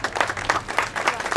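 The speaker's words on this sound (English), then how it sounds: "let us welcome him with a huge round of applause" Audience applause at a Girmit mela cultural event in welcome of a guest, a dense, continuous clapping from a crowd, full and steady throughout.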